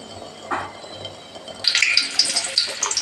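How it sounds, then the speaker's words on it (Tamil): Mustard seeds spluttering in hot oil for an ivy gourd fry, a sudden burst of dense, crackling pops starting partway through and continuing busily, preceded by quieter kitchen background. "கடுகு நல்லா பொரியட்டும்"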